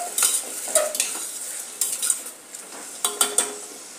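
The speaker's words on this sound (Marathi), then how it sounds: "आता हे चांगल्या प्रकारे परतून घेऊ" Corn and masala rice being stirred and sautéed in a pan, a close sizzling hiss punctuated by brisk scraping and clinking strokes of a metal spoon coming in quick bursts.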